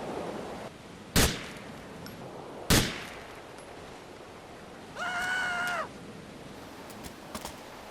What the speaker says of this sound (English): He even shot him in his knees before he killed him.